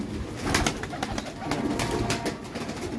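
Lahori pigeons in a loft cooing softly and repeatedly, a low rolling murmur from several birds close by with faint background noise and no talk.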